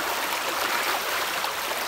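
Floodwater rushes across a flooded driveway and over a small bridge in a steady, dense roar of moving water, close and unbroken, with no voices.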